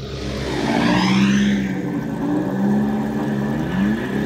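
A car engine revs and accelerates during a chase, a loud steady roar with rising pitch sweeps as it speeds up, close and continuous with no talk over it.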